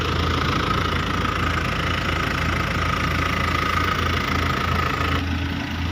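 A 3000 turbo engine in a 4x4 dump truck idling steadily close by, a continuous low rumble with a faint high whine running through it.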